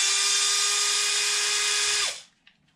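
A power drill backs out an upper screw on a Traxxas XRT RC truck, a single steady high whine for about two seconds that winds down abruptly, then a small click.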